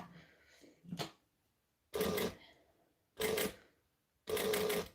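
A sewing machine stitches piping onto fabric in three separate bursts of rapid mechanical whirring, each about a second long with quiet pauses between, preceded by a few faint clicks.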